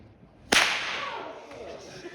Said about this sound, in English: whip is a very precise instrument, so you can use a very small amount of force and you can make a big sound